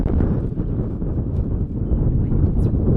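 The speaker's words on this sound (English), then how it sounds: "It's super windy today" Heavy wind rumbles and gusts against the microphone throughout, a dense low roar that never lets up.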